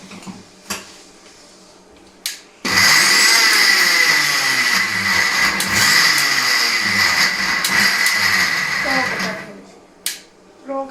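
A mixer grinder grinds chutney with salt in a loud, continuous whirring burst lasting several seconds, with brief clicks and knocks before and after.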